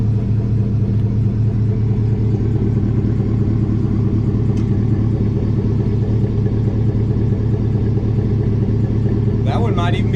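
Car exhaust with the tip cut off, a steady, loud low rumble of an idling engine that holds throughout, with a brief brighter rise near the end.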